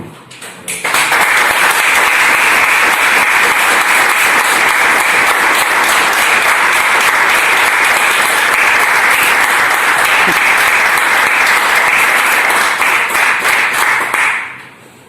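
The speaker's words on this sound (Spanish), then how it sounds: "lo mínimo que podemos hacer es darle un gran aplauso a David." Loud, sustained applause from a large audience at a book presentation in Campo de Cartagena, dense clapping that starts abruptly, holds steady for over ten seconds, then fades out.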